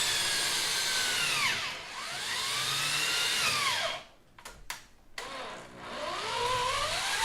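A power drill bores into the plywood of a homemade ITG2-style dance pad replica, its motor whining and pitching up and down through several runs, cutting out briefly with a few sharp knocks before spinning up again, loud and close.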